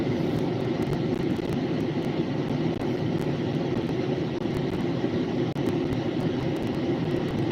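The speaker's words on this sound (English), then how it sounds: "It's a B&P light powered train." A B&P train passing on track 2 in East Butler, Pennsylvania, giving a steady, loud, continuous rumble and rail roar with faint clicks over several seconds, with no voices.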